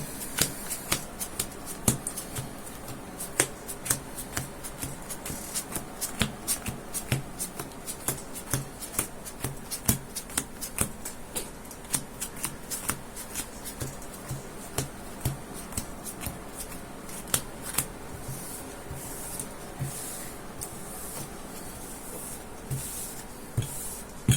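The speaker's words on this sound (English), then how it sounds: "I'm going to shuffle this bad boy up." A deck of Yu-Gi-Oh trading cards is shuffled by hand, with repeated crisp riffling and flicking bursts in an uneven rhythm, close and fairly quiet, with no talk.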